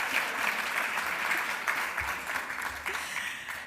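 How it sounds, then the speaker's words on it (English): An audience at an awards evening gives a round of applause, a dense, continuous burst of clapping throughout that thins slightly toward the end. "I think we should give another round of applause"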